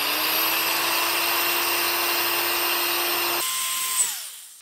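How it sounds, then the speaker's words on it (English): A power drill whines steadily at high speed, close up, drilling a hole into a coconut, then cuts off and spins down to silence near the end. "we got to drill a hole in this"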